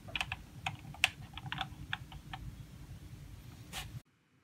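Touch typing on a computer keyboard: a close, steady patter of rapid key clicks with uneven rhythm and a few sharper strikes, ending abruptly into silence.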